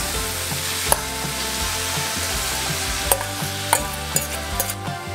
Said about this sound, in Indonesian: Tumis lagi.